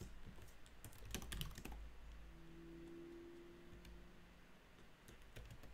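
Fast bursts of typing on a computer keyboard, quick clustered clicks at the start and again near the end, fairly close over a steady low hum with a quiet tonal whine in the middle.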